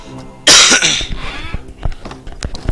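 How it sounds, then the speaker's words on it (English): A single loud, harsh cough bursts out close by, followed by softer rasping breaths and small mouth clicks as it fades. "my cough isn't completely gone"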